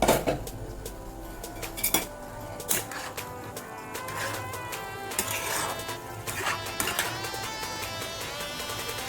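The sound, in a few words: lid removed from cooking pot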